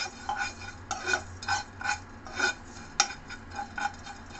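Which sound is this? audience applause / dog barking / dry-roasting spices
dry-roasting spices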